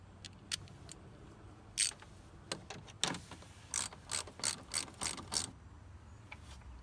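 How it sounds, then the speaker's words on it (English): A ratchet clicks in short bursts while tightening the fan shroud on a Dodge Ram during water pump replacement, a series of close, sharp ratcheting strokes with brief pauses, growing more regular midway. "we're gonna tighten the fan shroud down now"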